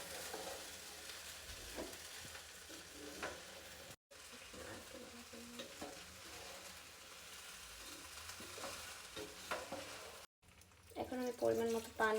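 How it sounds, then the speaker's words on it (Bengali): Pulao rice frying and being stirred in a pan, a steady close sizzle with scraping stir strokes throughout, two brief dropouts, and a louder clatter near the end. "পোলাওটা একটু ভেজে নেব"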